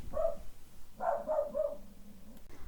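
A pet dog barks in a bright, excited run of several quick yips and barks indoors, fairly close and loud, with a brief pause between bursts and no talk over it.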